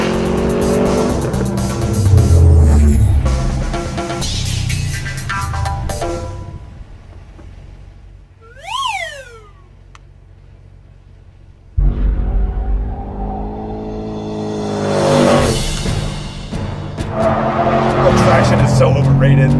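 A Chevrolet SS sedan's 6.2-liter V8 revs hard in loud bursts with tire squeal, fading to a lull before the engine roars back up, with voices talking over parts of it.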